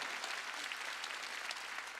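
A church congregation applauds together at a Sunday gifts service, a dense and steady wash of clapping that keeps a constant level from start to end.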